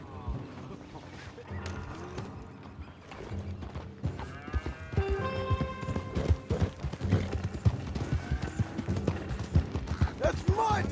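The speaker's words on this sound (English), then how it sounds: "Take that horse if you need it. Go easy on him." Horse hooves clip-clop in Red Dead Redemption 2, a rhythmic run of hoofbeats that builds and grows louder and closer, mixed with clattering game sounds and a voice talking over the top.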